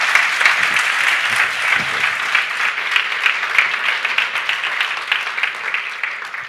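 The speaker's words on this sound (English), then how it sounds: "let's give Mark a big round of applause" Steady audience applause from a business conference crowd, dense and sustained at moderate loudness for several seconds, with no speech over it.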